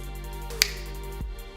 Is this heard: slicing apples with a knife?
no